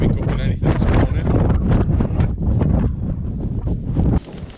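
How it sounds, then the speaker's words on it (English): Strong, gusty wind at an outdoor tarp campsite during a thunderstorm, buffeting the microphone with loud, uneven roaring bursts for a few seconds. "the wind's picking up quite badly out there"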